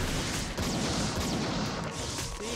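Explosions in the video game Grief Syndrome, a dense, continuous roar of blasts and crashes that fills the whole stretch loudly, with no talk over it.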